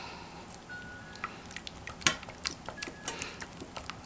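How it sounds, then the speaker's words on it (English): A spoon stirs a slime mixture in a bowl, making quiet, irregular scraping and light clinks of utensil against the container, scattered through the stretch with no talking. "And then we're gonna start stirring."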